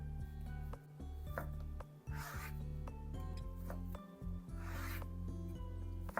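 A knife slices boiled sausage on a board for okroshka, giving repeated rhythmic scraping cuts, close and soft, over a steady low hum.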